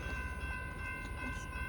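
A BNSF freight train pulled by two Kansas City Southern locomotives rolls past close by, a steady, loud rail roar with sustained tonal ringing over it throughout.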